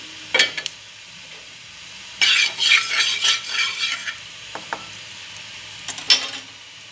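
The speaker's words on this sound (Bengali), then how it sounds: "এবার বেরেস্তাটা ভেজে নেব।" Onions fry in oil in a home kitchen for biryani beresta, bursts of crackling sizzle and scraping stir strokes coming in uneven clusters, fairly close.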